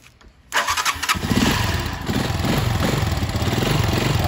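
A motorcycle electric starter cranks briefly and the engine catches, rising to a loud, steady idle that runs on alone, close by.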